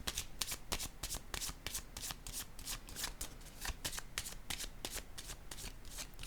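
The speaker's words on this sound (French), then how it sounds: "je vais piger une autre carte ici" Playing cards handled and shuffled close up, a steady run of quick crisp riffles and flicks with no talking, during a card reading about infidelity.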